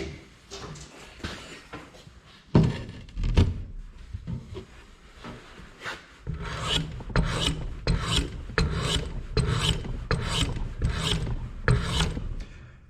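Knife shaving wood while fitting a new axe handle, first scattered scrapes, then a steady run of about a dozen rhythmic rasping strokes, close and loud with no talking.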